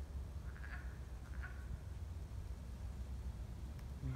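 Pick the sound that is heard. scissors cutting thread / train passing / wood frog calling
wood frog calling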